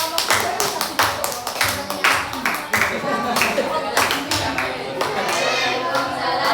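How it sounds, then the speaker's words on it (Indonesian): A classroom group claps for a presenting student group, with a burst of uneven, fairly close handclaps and some talking mixed in, thinning toward the end. "tepuk tangan untuk kelompok 3"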